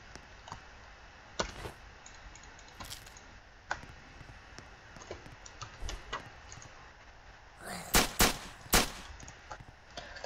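A few sharp gunshots in a zombie survival video game, scattered single reports early on, then a quick cluster of three loud shots near the end over faint keyboard clicking.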